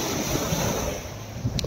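Ocean waves breaking on a seashore on an island coast, a continuous washing roar with gusts of wind buffeting the microphone and a brief brighter splash near the end.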